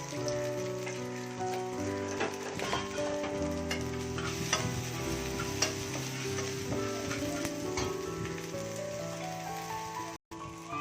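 Onions and green chillies frying in oil for fried rice, a dense, continuous sizzle with scraping stir strokes close by and a brief drop-out near the end.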